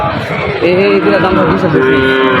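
A cow moos in a long, low drawn-out call against a busy crowd of voices and background chatter at a cattle market in Joypurhat.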